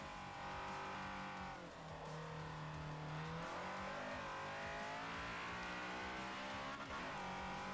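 A Honda Civic driven in Forza Motorsport 4 with front-wheel-drive oversteer, its engine droning and rising through revs with gear changes, tire noise beneath, heard steadily and close without talk.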